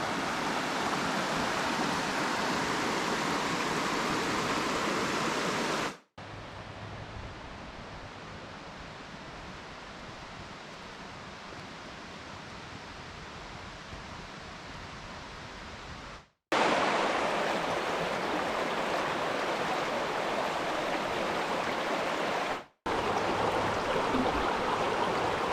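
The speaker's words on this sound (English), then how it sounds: "See the stream." Steady broadband rush of a muddy, rain-swollen stream at Clifty Falls State Park, close and continuous with no voices, broken by a few abrupt cuts.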